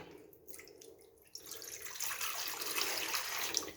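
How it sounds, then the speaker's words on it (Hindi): A glass of water is poured into a wok, a kadhai, to start sugar syrup. After a quiet moment the close, steady splashing stream begins. "अब इसमें डालेंगे 1 गिलास पानी का।"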